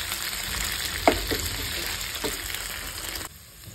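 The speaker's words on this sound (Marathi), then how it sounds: "आपण आता याला मस्त ह्या मिरच्याला करून घेऊया छान फ्राय." Green chillies with curry leaves frying in oil in a pan, a soft steady sizzle with a few clicks of stirring, fairly quiet, then a sudden drop near the end.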